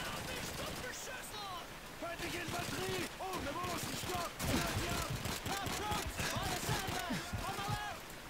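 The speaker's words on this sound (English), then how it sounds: "The sound of the weapon is also very satisfying, gotta say." Video game gunfire from Call of Duty 2, with repeated sharp shots and bursts scattered through the stretch under a steady, loud mix of game noise and overlapping talk.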